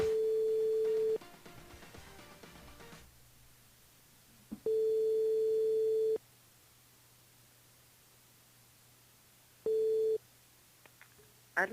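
A telephone line tone heard while calling into a radio show: three separate steady beeps, each lasting one to two seconds, separated by quiet gaps with faint line hiss and a brief burst of dialing sounds.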